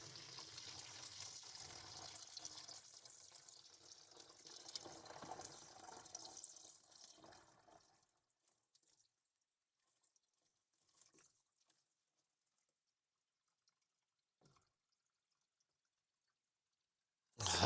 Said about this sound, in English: Can't be asked to pour it anymore. It's a big bottle.